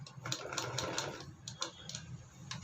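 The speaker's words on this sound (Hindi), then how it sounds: "पूरे को सिलाई लगा देते हैं।" Sewing machine stitching a fabric cover, a quick run of rapid mechanical clatter followed by short intermittent bursts, close and moderately quiet.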